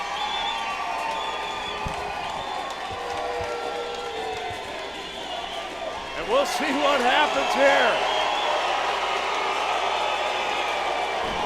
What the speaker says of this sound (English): The crowd paying their respect to these fighters.